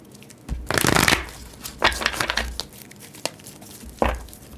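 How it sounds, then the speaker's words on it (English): Tarot cards are shuffled close by in several quick riffling bursts with papery crinkle, separated by short pauses. "Let's do a couple more shuffles here."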